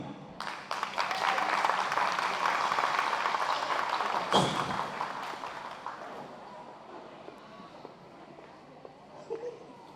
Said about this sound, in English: Give a warm applause to Mrs. Carol Jack as she comes on stage